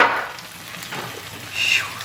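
Vegetables sizzle loudly in a hot frying pan with carrots while cooking Finnish fish soup, a continuous hiss that swells briefly near the end as food is stirred.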